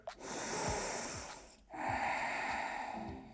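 Deep nasal inhalations during a hip-focused yoga session on a mat, two long, steady breaths drawn in close to the microphone, separated by a brief pause.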